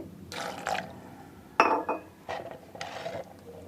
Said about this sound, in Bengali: একটু পানি দিয়ে নিচ্ছি।